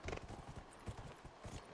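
Horse hooves clip-clop in a steady walking rhythm while riding in the Dragon Age: Inquisition video game, the faint, repeated thuds heard alone without talk.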